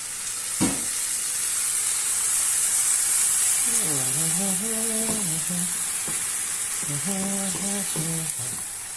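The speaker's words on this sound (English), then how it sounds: "it's because you stir fry too vigorously" Food stir-fried in a pan sizzles with a constant bright hiss and a sharp clatter near the start, while voices talk over it in the middle and near the end.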